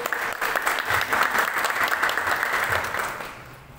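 An audience at a Baptist church Christmas celebration in Depok breaks into warm, steady applause that swells, holds for a few seconds, then fades out.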